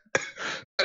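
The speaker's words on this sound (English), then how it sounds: "Yo, why am I coughing so much?" A person gives a short, close, dry cough, a brief pause, then a second harsh cough burst starting, all in a quiet room.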